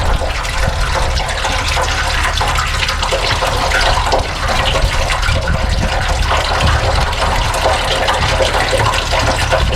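Water gushes steadily from a coolant hose on a 1999 BMW 328i E46 during a hose replacement, a loud continuous splashing rush with no pause throughout.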